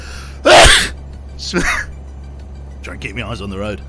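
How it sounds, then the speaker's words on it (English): A man lets out one loud, close sneeze in a truck cab, followed by a smaller breathy catch and then some casual talk. "I've got a big sneeze coming."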